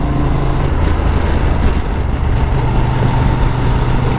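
A 2023 Honda Transalp XL750 motorcycle cruises in sixth gear in standard mode, its engine a steady low drone blended with continuous wind rush, loud and unbroken throughout.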